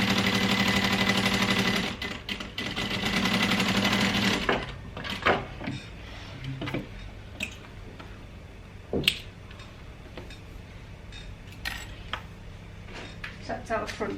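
A sewing machine runs steadily for a few seconds, basting a panel in place on a crossbody fabric bag. Scattered close clicks, taps and fabric handling follow once it stops.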